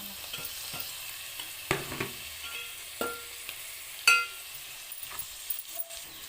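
A spoon stirs onion egg masala curry in a pan after tomatoes go in, giving soft scraping strokes and scattered sharp clinks against the metal over a low, steady sizzle of frying.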